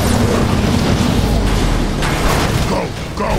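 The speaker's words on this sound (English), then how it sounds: "Lord Megatron, the ship's reactor core is failing. Explosion imminent." Ship reactor core explosion in a Transformers animated battle: a sustained loud roaring rumble with mechanical creaks and crashing debris, dense and unbroken throughout.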